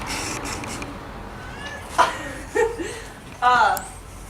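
A cat meows a few times in a hay barn stacked with second-cutting bales, short separate calls at moderate distance with quiet gaps between them.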